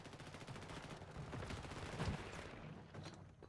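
Rapid automatic gunfire in the video game Call of Duty Modern Warfare 3 on a small multiplayer map, quiet and somewhat distant, a continuous burst of crackling shots.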